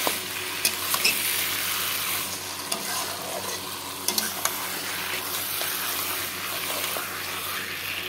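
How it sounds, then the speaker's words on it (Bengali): Spices and tomato fry with potatoes in a pan, giving a steady, dense sizzle throughout, with a few light stirring clicks, close and continuous with no voices. "বন্ধুরা দেখো আলুর সাথে এখন ঢেলে দিলাম মশলাগুলো, টমেটো আর"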